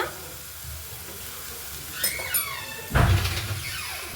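Onions and tomato fry in a pan with a soft, steady sizzle, a couple of brief squeaky utensil scrapes, then a louder burst of hissing as more goes into the hot oil.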